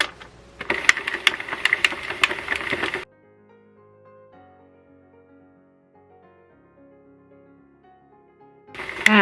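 A Sentro circular knitting machine cranked with yarn, dropping stitches with its tension loosened, makes a dense run of rapid mechanical clatter for about three seconds, falls quiet, then clatters loudly again at the end.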